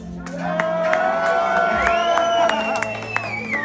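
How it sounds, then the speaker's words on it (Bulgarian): Crowd at an evening prize draw cheering and whooping for a voucher winner, with scattered claps and shouts rising over a steady, fairly close crowd din; a tonal whistle-like cry sweeps through the middle. "Аплодисменти за Антон Монев."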